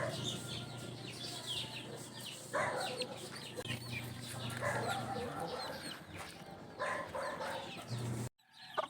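A flock of gold chicks peep continuously in a close, busy chorus of high chirps, with a few louder calls standing out and a low hum running underneath.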